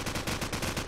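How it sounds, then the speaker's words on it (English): AK rifle fires in a shooter video game as a rapid burst of evenly spaced gunshots across the whole second, loud and close with no voices. "trying to land a whole bunch of AK rounds"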